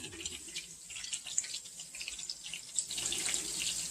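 Water runs steadily from a tap into a kitchen sink while something is washed up after battering finger steaks, a close, continuous hiss with small splashes and no talk.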